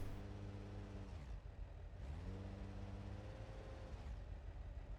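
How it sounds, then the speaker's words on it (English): In the video game BeamNG, a rough-running car engine revs through repeated gear changes: a low harmonic drone climbs, drops off, then climbs again, moderately near and steady with no talk. "Is this me or is my engine starting to sound a little rough?"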